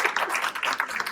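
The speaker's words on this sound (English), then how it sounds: "give her a round of applause" Audience applause at a pet services summit greets a certified dog trainer being introduced on stage: a brief, fairly soft patter of many hands clapping at once, with no voices over it.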